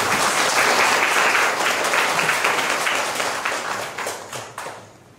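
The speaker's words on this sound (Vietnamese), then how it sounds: "Xin chúng ta cùng vỗ tay chúc mừng." Audience applause at a Catholic celebration of a couple's silver wedding anniversary, dense steady clapping from many hands that thins into scattered claps and fades out near the end.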